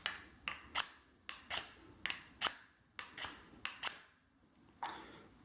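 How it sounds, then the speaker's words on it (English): A ferro rod fire steel is struck repeatedly, giving about a dozen sharp, bright scraping rasps in an irregular rhythm over five seconds, close and fairly quiet, with no talking. "here's my fire steel ferro rod"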